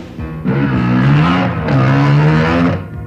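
A motorcycle in a Filipino action film pulls away with a loud, rising engine whine that holds, dips briefly and climbs again before cutting off, close and without voices.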